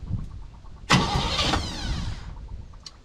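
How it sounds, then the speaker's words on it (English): A car's starter motor cranks the engine of an older car fitted with a replacement starter that has a bad solenoid, giving a loud burst of close whirring and chugging for about a second and a half, then fading to a low idle-like rumble. "Starter fucking works."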